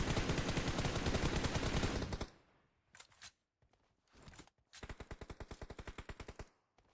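Rapid automatic gunfire in PUBG Mobile, a long dense burst, then a few scattered single shots, then another fast evenly spaced volley, all fairly distant and unaccompanied by talk.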